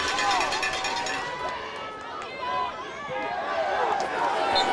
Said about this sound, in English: but you hear the crowd here